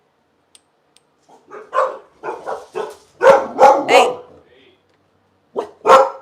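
A dog barks several times in short bursts, fairly close, with a few sharp yips, while a person talks nearby.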